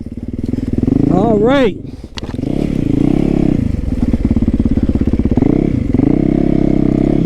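A Supermoto motorcycle engine revs sharply, then settles into a loud, close, pulsing ride with throttle swells, while someone talks over the engine noise.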